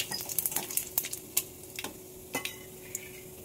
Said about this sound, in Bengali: এখন দিয়ে দিচ্ছি গোটা জিরে ফোড়ন দিয়ে দিলাম